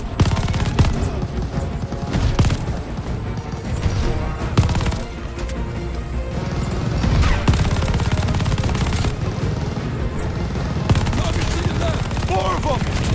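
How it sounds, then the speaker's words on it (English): Dense gunfire from Call of Duty: Vanguard rattles almost continuously, overlapping rifle and machine gun bursts with scattered impacts and crashes under shouted voices. "Keep shooting, Wade!"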